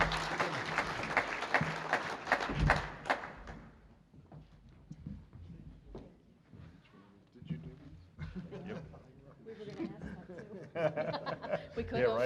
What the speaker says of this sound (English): So give them a good round of applause.